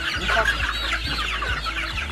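Flock chickens at a poultry farm cluck and chirp continuously in a dense, close chorus, with a low rhythmic mechanical thump repeating underneath.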